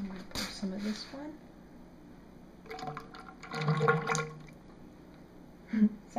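Thick tallow soap batter with honey and goat milk is poured into a 3-inch PVC pipe mold, making intermittent soft gurgling, sloshing pours between pauses while someone talks.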